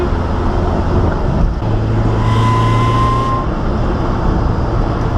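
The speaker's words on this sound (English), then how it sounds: "This car makes a disgusting sound out the back though." Toyota AE86 drift car driving on a road with a rough, harsh exhaust, a steady loud engine drone with a brief tonal whine midway.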